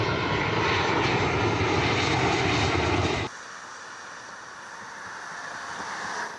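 A passenger airplane's engine roars steadily and loudly for about three seconds, then abruptly drops to a softer, duller drone that continues to the end. No voices are heard.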